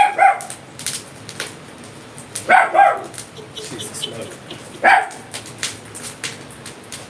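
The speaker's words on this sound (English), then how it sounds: "She's barking at the little ember pile that I sprayed water on" A dog barks at a pile of wet embers in short sharp bursts, a couple of single barks and a double bark, nearby, with someone speaking briefly at the start.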